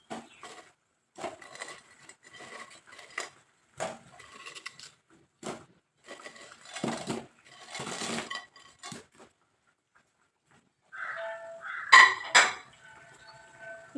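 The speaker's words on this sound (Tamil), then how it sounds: "இப்போ இதில் பிரெட்டு துண்டுகளை சேர்த்துக்கலாம்" Bread pieces dropped into a pan of sticky boiling sugar syrup for bread halwa, giving a run of soft clinks and clatters of utensils and pan with gaps between, close and fairly clear, with no talking.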